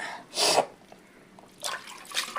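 Coriander leaves being rinsed in water for a second time while preparing mint thuvaiyal, two short splashing bursts separated by a quiet pause, close and fairly clear.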